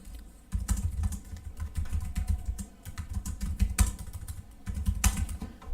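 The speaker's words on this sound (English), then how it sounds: "If you like do backspace and type some expressions here" Steady typing on a computer keyboard during Python coding, a dense run of quick, close key clicks across the whole stretch with a few louder taps and short pauses.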